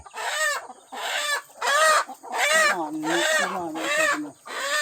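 Hens clucking on a small farm, a close and loud series of drawn-out cackles and squawks that repeat about every half second, with a lower bird call joining midway.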